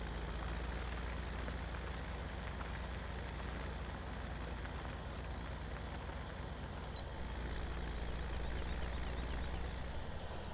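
A narrow-tired tractor idles in the Farming Simulator 17 video game, a steady low diesel rumble that holds at an even level for the whole stretch, with no talking over it.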